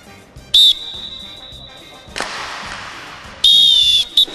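A referee's whistle blown to start a race on a Turkish TV show, two sharp shrill blasts, the second long and steady, ringing out over crowd noise and talk, with a burst of cheering between them.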